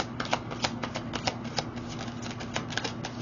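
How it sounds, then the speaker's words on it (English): A deck of tarot cards is shuffled up close, giving a continuous soft riffling with quick repeated flicks and taps for a few seconds, with no talking. "feel free to set your own intentions as you watch me shuffle"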